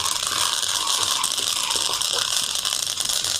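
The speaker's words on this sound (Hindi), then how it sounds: "उसमें से चटकने की आवाजें आने लगेंगी" Flaxseeds dry-roasting in a pan over a gas flame, a dense continuous hiss of fast crackling and popping that stays steady and close throughout, with no talking.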